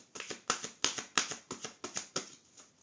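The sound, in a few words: cutting a deck of tarot cards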